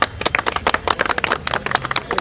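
An audience at a gathering applauds for Pradeep Jain, with dense, close hand claps forming a steady burst of clapping, and no voices heard.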